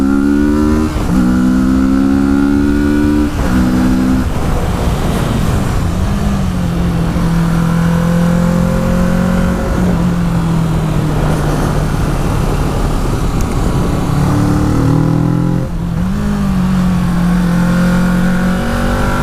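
A 2017 Kawasaki Z650 motorcycle engine pulls loud and close on a climbing road, revving up through repeated rising sweeps with brief dips between gears, steady and continuous throughout.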